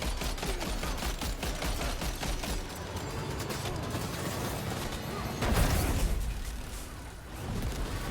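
Automatic gunfire in the Death Stranding 2 video game, a dense rapid rattle of shots running continuously through the clip with a louder burst near the end and no talk over it.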